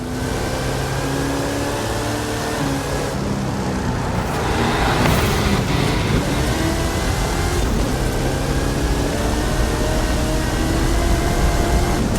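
A monster truck with a 540 cubic inch Chevrolet engine and 66 inch Terra tyres in Forza Horizon 5, its engine droning steadily with a rising rev partway through over constant road roar.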